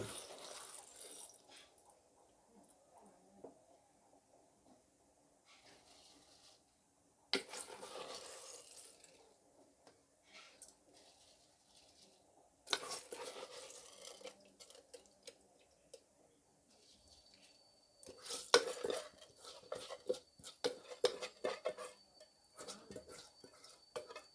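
Rice tipped into a hot pot for sprouts pulav and stirred, heard as intermittent bursts of scraping, clinking and rustling separated by near-silent gaps, close and moderately quiet, no voices.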